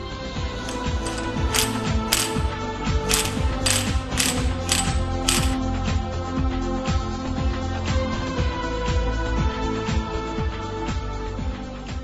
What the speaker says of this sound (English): Tighten the special nut to the specified torque as shown.